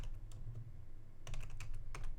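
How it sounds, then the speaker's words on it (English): Keys clatter on a computer keyboard as a message is typed into Minecraft chat, quick close clicks in a short flurry that grows busier toward the end, with no talk. "So now if I type something in the chat."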